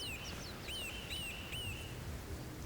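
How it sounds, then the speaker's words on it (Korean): A Eurasian nuthatch near a tree hole dug by a woodpecker along a Korean stream gives a series of clear, rising whistled calls, repeated several times over steady background hiss. "동고비다"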